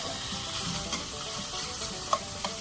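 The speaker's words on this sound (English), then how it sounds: "I put it in the iron skillet. I'm gonna cook that down a little bit." Food cooking down in an iron skillet for a potato and hemp seed soup, giving a steady close sizzle with a few light stirring clinks and no talking.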